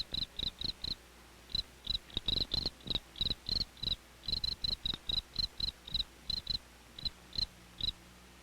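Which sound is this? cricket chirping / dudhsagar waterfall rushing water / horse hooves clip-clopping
cricket chirping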